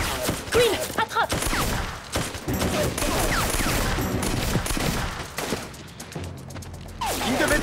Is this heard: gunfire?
yes